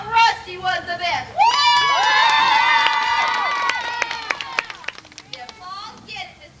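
A crowd at a small-town show cheers and applauds to vote for a contestant, a loud burst of shouts and whoops swelling then fading into scattered claps and voices.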